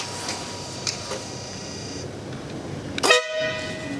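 A car horn sounds in a short burst near the end, loud and close, after a stretch of quiet background with a few faint ticks, during a test of horn installation.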